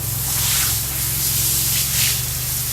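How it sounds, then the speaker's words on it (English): Water spraying from a hose while a truck is washed, a loud, close hiss that swells and eases as the stream moves across the surface, with no talking. "make sure you spray it good"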